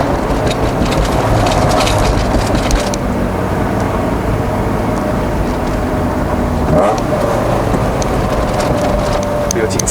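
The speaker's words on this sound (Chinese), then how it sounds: "听一下它的 VTEC 声" A Honda Civic EG9 with a VTEC engine revs hard on a Malaysian road, heard from inside the cabin with the window open as a loud, continuous engine roar with wind noise, dipping briefly before rising again.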